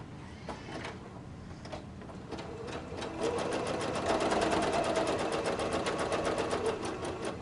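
A sewing machine stitches around a curved, pinned seam on a zipper ruffle tank top. It starts with a few slow stitches, then speeds into a loud, steady run of close rhythmic pulses, with no talking.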